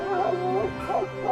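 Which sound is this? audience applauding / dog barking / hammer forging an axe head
dog barking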